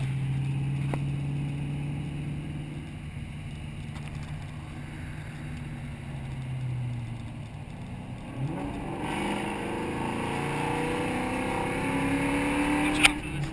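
A Ford Mustang Fox body with a 306 or 331 engine and a massive exhaust leak pulls hard in third gear, a rising engine drone heard from inside the car, shifting and climbing again near the end.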